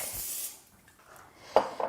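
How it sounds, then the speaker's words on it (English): A short hissing burst of cooking spray onto a griddle, close and soft, fading out, followed by a faint clink near the end. "we're going to just lightly spray our griddle, or you can do this on a pan on your stove, either way, just so it doesn't stick."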